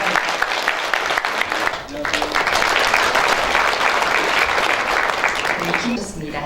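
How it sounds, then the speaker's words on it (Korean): A crowd at a Korean journalists' association ceremony applauds steadily and loudly throughout, a dense sustained clapping with a brief dip near the middle. "큰 박수로 환영해 주시기 바랍니다."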